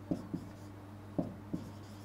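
Marker or chalk strokes on a board during a lecture: four short, soft scratchy taps spaced unevenly over a quiet room hum, with no talking.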